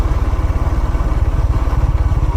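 A motorcycle engine runs close by, its steady low rapid chugging pulses and mechanical clatter continuing evenly with no voices present.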